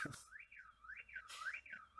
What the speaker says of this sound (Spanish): Disculpen, pero está sonando una alarma, si la escuchan de fondo.